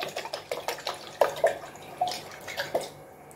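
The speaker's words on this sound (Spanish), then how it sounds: "ahora esto se tapa y se agita. Se nos hace solo la vinagreta." Oil-and-vinegar vinaigrette for a green bean, mackerel and potato salad is shaken hard in a closed container, giving a quick rhythmic run of wet sloshing splashes, close and fairly loud, that ends abruptly.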